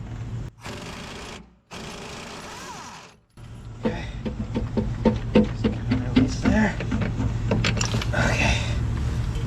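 A 3/4-inch Cornwell impact gun loosens a bolt on a Cat D10R dozer. It gives loud, close bursts with brief silent gaps, then a sustained rapid hammering rattle.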